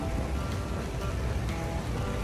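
Steady rain falls at Fushimi Inari shrine in Kyoto, a dense continuous hiss of drops on surfaces and umbrellas, even and close throughout with no voices.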